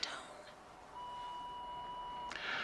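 An answering machine sounds its single steady electronic beep, a clean sustained tone lasting over a second after a short click, fairly quiet and heard alone.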